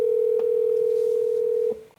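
A steady telephone ringback tone plays through a car stereo over FM transmission from a CarPlay/Android Auto display unit, sounding clear and continuous for most of two seconds before cutting off.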